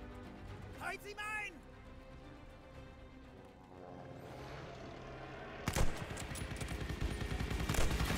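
Gun emplacement firing in the World War II shooter game Call of Duty Vanguard at Tobruk, rapid bursts of gunfire growing louder and denser toward the end, with a voice speaking earlier over a rumbling battle background.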